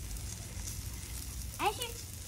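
Pork and chicken sizzle on a grill in a steady, low crackling hiss, with a short voice breaking in near the end.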